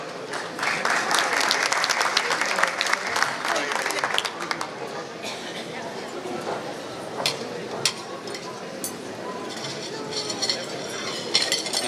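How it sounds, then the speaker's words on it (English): Applause from diners at a Namal Knowledge fundraising dinner, moderately loud and steady, with glasses and cutlery clinking and some speech underneath. "with an applause from all of us"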